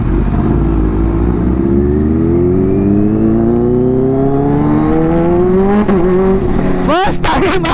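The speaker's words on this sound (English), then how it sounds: "First time I'm riding a fucking Kawasaki Ninja H2." Kawasaki Ninja H2 motorcycle engine revving hard while riding, the pitch climbing steadily through a long pull with a sharp blip and gear change near the end, loud and close under steady wind roar.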